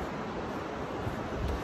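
Steady broadband wash of ocean surf breaking on the shore, continuous and fairly close, with some wind rumble and no voices.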